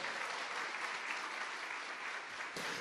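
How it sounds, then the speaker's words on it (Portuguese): Applause from a congress audience at Fátima, Portugal: dense, steady clapping from many hands filling the space, loud and continuous throughout, with a brief dip near the end before it swells again. "E aplauda a palavra de Deus"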